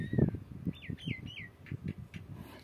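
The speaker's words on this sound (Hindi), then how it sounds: "चिड़िया बोल रही है" A bird chirps in several quick, sweeping tweets at a modest distance. Soft thuds and household noise sit underneath.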